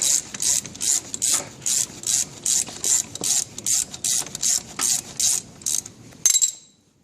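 A ratchet clicks in steady, evenly spaced bursts during a brake pad change on a 2000 Pontiac Bonneville, close and crisp, about a dozen strokes before a final clunk.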